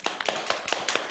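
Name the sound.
applause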